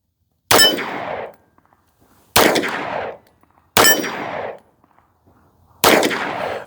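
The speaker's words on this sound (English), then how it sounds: "Let's go ahead and shoot it one-handed." Four sharp, loud shots from a Ruger RXM sub-compact pistol fired one-handed ring out, spaced about one and a half seconds apart. Each crack trails off in a brief ringing echo, with near silence between shots.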